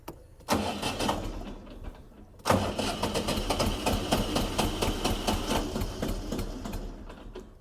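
A SKIF T254 mini tractor engine cranks briefly, pauses, then cranks again and catches into a rapid, buzzing idle, close by, with no speech.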